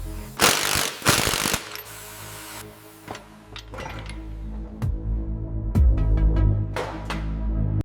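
Metal clanks, scrapes and rattles as a rusty bumper comes off a 1963 Bentley S3, with sharp knocks and grinding bursts over a low rumble, close and uneven.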